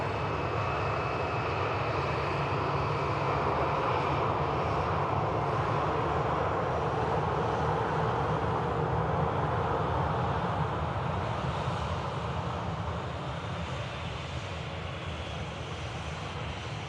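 An Airbus A350 begins its departure roll on runway 23 left at Manchester Airport, heard as a distant, fairly quiet but steady jet rumble and hiss that stays even throughout, without voices.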